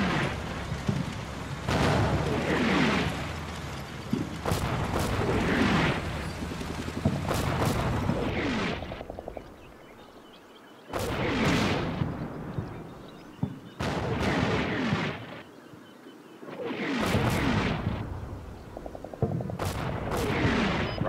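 Artillery barrage firing for effect in the Combat Mission video game, with repeated heavy booms and rolling gunfire in dense waves, loud and sustained with brief quieter gaps between salvos.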